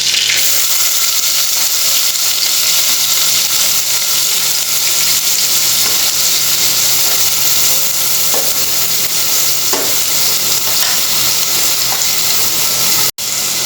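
Chopped onion frying in a hot pan for banana flower sabji, a loud, steady sizzle close up that lasts throughout, with occasional soft stirring scrapes and no talking.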